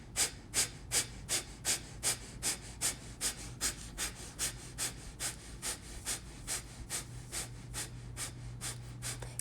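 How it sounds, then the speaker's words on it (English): Rhythmic yoga breathing exercise, quick forceful exhales repeated steadily about three times a second, close and clear, with no talking over it. "Keeping it going for the count of 50 here. This breath is so cleansing."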